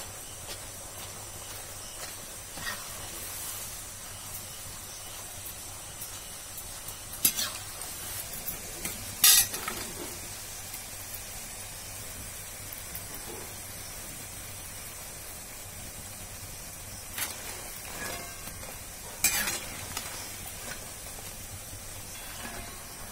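Sirini sweets frying in hot oil, a continuous soft sizzle broken by a few sharp stirring and utensil clatters, with no talk.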